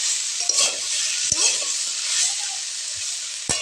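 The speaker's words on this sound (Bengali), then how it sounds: "ঢাকাটা খুলে নিয়ে একটু নেড়ে নেব।" Pumpkin-stem curry with potato and eggplant stirred in a pan after the lid comes off, a soft steady sizzle with a few sharp utensil scrapes and clinks against the pan, close and alone.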